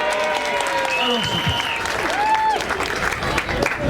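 Guests at a customary wedding ceremony burst into sustained applause, steady clapping from a gathered crowd with voices and calls mixed in.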